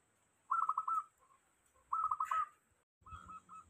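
A zebra dove (perkutut), about three weeks out of the wild, gives short rolling whistled coos in three clear bursts separated by brief pauses, close and alone with no talk.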